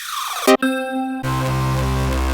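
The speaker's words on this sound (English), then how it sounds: "we can scroll through the presets till we find a bass we like" A synth bass preset sounds: a quick swooping tone, a short buzzy note, then a deep sustained bass drone with rich harmonics, loud and alone.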